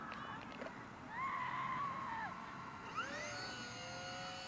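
An RC helicopter spools up for a manual takeoff on an open flying field, its rotor whine rising and falling in pitch and heard faintly at a distance, with quiet background.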